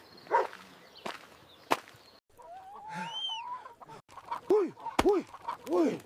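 A hen clucks and squawks in bursts, close by, mixed with sharp snapping knocks and a brief whistling tone in between.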